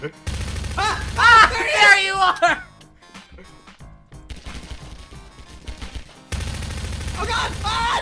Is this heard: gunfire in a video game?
yes